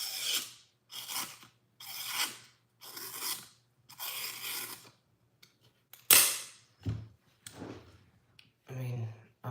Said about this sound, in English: I just got done stropping our Cobra Tech OTF.